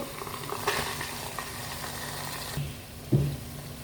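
Ginger, garlic and spices fry in a pan with onion, a steady sizzle with a few stirring knocks and a louder clank near the end, with no talk over it.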